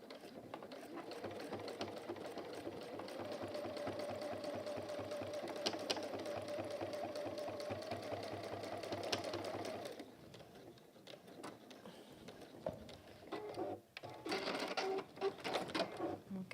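A sewing machine stitches across the bottom of a folded velvet pouch, running a steady, rapid mechanical chatter for about ten seconds, then stopping and restarting in short bursts while someone talks over it.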